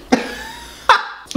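A man coughs after eating powdery Mexican candy: three sharp, close coughs, with the second followed by a short drawn-out exhale.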